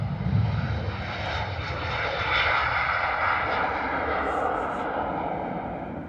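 A Ryanair jet rolls for takeoff on runway 04 at London Stansted, its engines giving a steady, loud broadband roar throughout with slight swells, and faint voices can be heard underneath.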